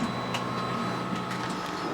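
A 3D printer runs alone with a steady mechanical whir, faint stepper-motor tones and light irregular ticking throughout.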